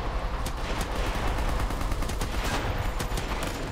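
Rapid automatic AK rifle fire in a shooter video game, a dense continuous stream of loud shots with sharp cracks throughout.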